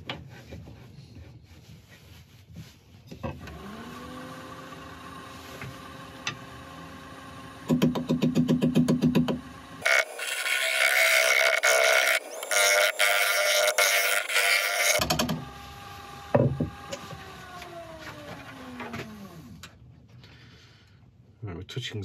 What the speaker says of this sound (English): I'll scrape the inside first, get rid of this milliput